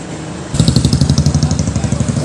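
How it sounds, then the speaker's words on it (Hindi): A motorcycle engine idles loudly and close by, starting suddenly and settling into a fast, even chugging pulse that continues steadily with no voices over it. "यहाँ मोटरसाइकिल है"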